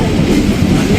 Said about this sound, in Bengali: চলো, ট্রেন চলে এসেছে।